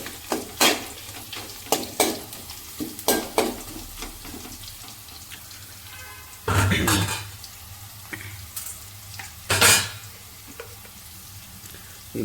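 Dried red chillies fry in a pan while being stirred, a low continuous sizzle broken by sharp scraping knocks of the spoon against the pan and a couple of louder clattering bursts.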